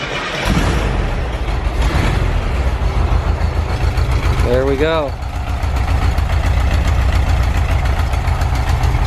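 Old VW bus engine cranking over and catching, then settling into a steady, loud idle that runs through the whole stretch, with a brief voice spoken over it.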